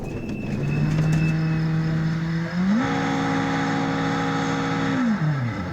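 A Subaru Impreza rally car runs a stage at the 2009 Rally d'Italia Sardegna. Its engine holds a steady buzzing note, then climbs sharply to a higher pitch and sustains it loudly before dropping again.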